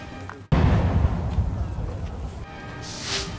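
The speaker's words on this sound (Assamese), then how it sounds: "দিন দুপৰতে জনচক্ষুৰ সন্মুখত ফুটিছে আইডি।" An IED bomb explodes in broad daylight before public onlookers in Rangia, a sudden loud blast followed by a rumbling, decaying roar and a distant crowd murmur.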